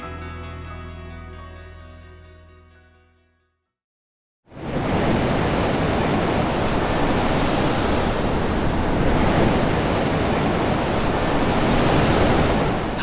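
After a tonal music passage fades to a brief silence, loud ocean surf at a surfing spot crashes in and keeps roaring as a broad, continuous wash of breaking waves with some wind, close and without voices.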